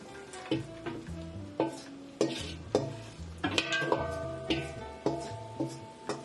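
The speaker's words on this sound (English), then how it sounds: "So now I'm going to add the rest of my ingredients to this pot, and then it's going to mix in with this nice grease" Vegetables tipped into a pot and stir-fried in sausage grease for a shrimp and sausage stir fry, with a rhythmic series of sharp stirring clacks against the pan over a low sizzle, close and clear.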